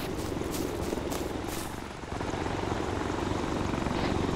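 A military helicopter spools up at a base in an ArmA 3 battle, its steady broadband rotor and engine roar filling the scene, loud and close, rising slightly in the second half.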